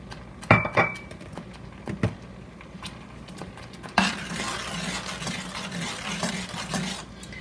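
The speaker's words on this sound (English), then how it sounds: "I'm going to cook this for about 5 minutes. That way all the ingredients will simmer together." Eggplant dip with a little rice vinegar simmering in a pan, stirred with a utensil: sharp clinks and scrapes early, then a steady low bubbling simmer with continuous stirring scrapes, close and moderately loud, no talking.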